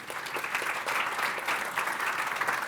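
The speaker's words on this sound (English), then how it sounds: "Kind of round of applause for our panel." Audience applause for a podcast panel at an industry event, a steady dense clapping from a full room that holds even throughout, with no talk over it.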